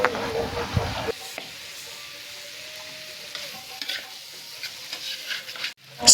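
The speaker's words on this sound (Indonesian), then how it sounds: "Kita masak, kita aduk-aduk sampai bumbunya meresap dan merata ke jandonya ya." Diced beef fat frying with spice paste while being stirred, a close sizzle with scraping stirs after a brief louder burst at the start and a sharp clack at the end.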